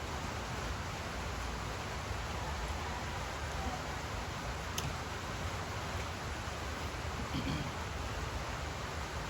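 Steady, dense hiss of rainfall fills the whole stretch, even and constant with no pauses, like a downpour heard from nearby.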